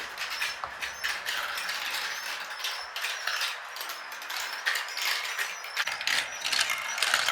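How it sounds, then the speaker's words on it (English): A marble run elevator lifts marbles with a continuous rattling, clicking mechanical whir, close and fairly steady, with small plastic clatters and knocks scattered throughout and no speech. "We got some going up the elevator."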